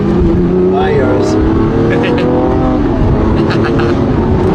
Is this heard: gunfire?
no